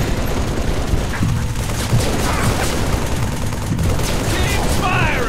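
Heavy gunfire in the Halo 3 ODST shooter, with rapid automatic bursts and overlapping shots forming a loud, continuous barrage while distant combat chatter sits underneath.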